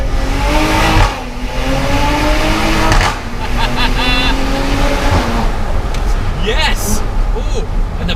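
A Maserati engine revs loudly and continuously from inside the car as it drives through a semi-tunnel, with rising and falling engine tones and someone talking over it.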